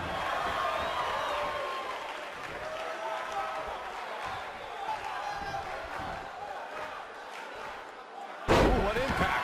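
A wrestler is slammed to the mat in the WWE 2K19 video game, a sharp heavy thud near the end over steady arena crowd noise, with commentary talk running throughout.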